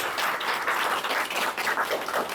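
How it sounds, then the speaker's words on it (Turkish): An audience at a painting exhibition applauds, a dense burst of many hands clapping together at a steady, moderately loud level. "Burada ben istiyorum hepsini alkışlasınız."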